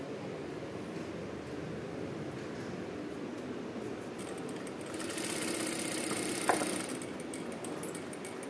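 A sewing machine runs a continuous straight stitch line on a single fabric piece, giving a steady, close motor hum with rapid needle chatter that swells slightly partway through. A small click sounds near the end.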